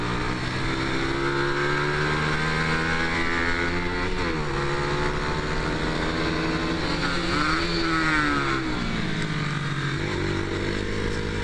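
Motorcycles, including small YCF pit bikes, lapping a race track: a continuous loud engine drone with rising and falling revs as gears shift, close and steady throughout, no talking.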